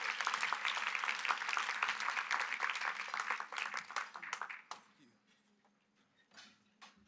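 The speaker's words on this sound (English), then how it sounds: "let's give a huge round of applause for DeKalb County CEO" An awards luncheon audience applauds DeKalb County CEO Michael Thurman. A full room of clapping sounds dense and steady, then fades out after about four seconds into quiet room noise with a few faint claps.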